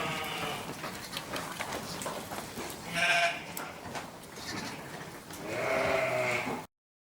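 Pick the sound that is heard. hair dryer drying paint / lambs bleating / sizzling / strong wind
lambs bleating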